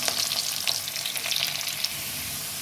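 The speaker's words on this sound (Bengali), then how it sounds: "আলুটা লাল লাল করে ভেজে নিই।" Potatoes frying in oil until reddened, a close, even crackling sizzle with a few scraping stirs early on before settling into steady hiss, no talking.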